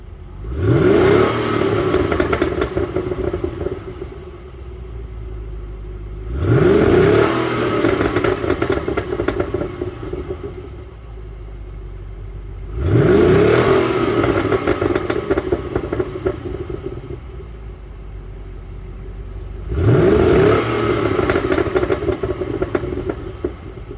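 Holden V8 Commodore with its bimodal exhaust open, revved four times to about 5,000 RPM, each loud rising roar dropping back to a burbling idle between pulls.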